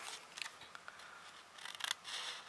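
Scissors snipping through paper or card while cutting pieces for a small handmade book-shaped box, a few quiet close cuts with brief pauses between them.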